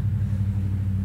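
Low, steady engine rumble of cars in a video game, a continuous dense drone held at even loudness throughout the short moment with no voices.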